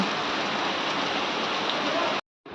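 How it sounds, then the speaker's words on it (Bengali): Steady rain falls in a dense, continuous hiss that fills the air, then cuts off abruptly near the end before resuming faintly. "হঠাৎ করেই বৃষ্টি শুরু হয়ে গেল"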